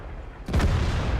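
A tank cannon fires in World of Tanks, with an IS-4 facing an M103. After a quiet lead-in comes a single loud, close boom with a sharp attack and a rolling low rumble that lingers to the end.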